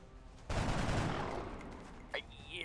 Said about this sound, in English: Alright, well, let's shoot them.